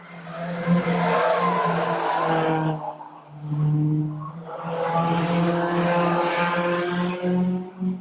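Stock cars racing around a short track, engines roaring past in two loud swells with whining tones, a brief dip between them, heard close without talk.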